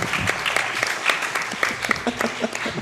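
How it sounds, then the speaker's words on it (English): A burst of clapping from several people at a Summer Games Done Quick speedrun event, quick and uneven, with some crowd noise mixed in. "What's the clapping for?"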